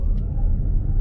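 Toyota RAV4 Prime floored in eco mode with wheels spinning, a brief loud low rumble of road and drivetrain noise heard from inside the car.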